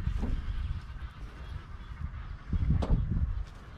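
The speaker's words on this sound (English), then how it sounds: "a couple of very noisy geese here." Geese beside a flowing river give a few scattered honks, one early and a louder cluster near the end, over a low, rumbling background of water and wind.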